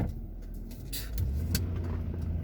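A car drives along steadily, its engine and road rumble a constant low drone from inside the cabin, with a few brief higher clicks and rustles on top and nobody speaking.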